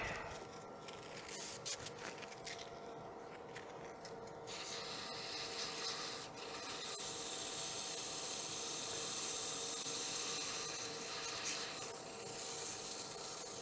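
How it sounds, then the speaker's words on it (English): Abrasive paper rubbing against a turned wooden box spinning on a woodturning lathe, a steady soft hiss with the motor hum beneath, growing louder and brighter midway through and holding alone without talk. "Just like power sanding, I'm going to start with a coarser grit than I think I need."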